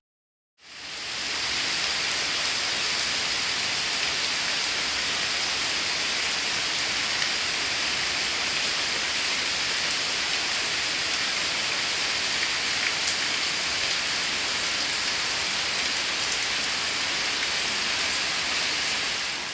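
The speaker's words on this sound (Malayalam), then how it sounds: "നല്ല മഴ പെയ്യുന്നുണ്ട് തന്നെ" Heavy rain pours outside a house, a dense, steady hiss of drops on surfaces that starts abruptly and holds loud and unbroken throughout, with no voices.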